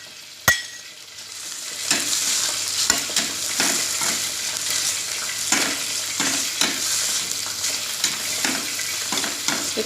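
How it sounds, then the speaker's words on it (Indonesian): Spices fry in hot oil over medium heat for a Balinese tofu in oyster sauce, a loud continuous sizzle broken by repeated scraping stirs of a utensil against the pan, with no voices. "panaskan minyak dan goreng semua bumbu dengan api sedang"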